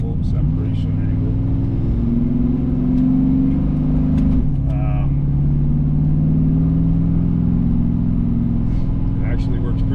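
A 1983 Pontiac Parisienne V8 with a Comp Cams Thumper camshaft rumbles with a loud, choppy lope while driving, rising briefly in revs around the middle, with someone talking over it.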